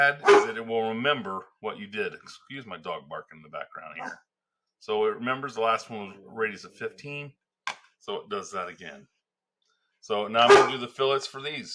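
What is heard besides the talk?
dog barking in the background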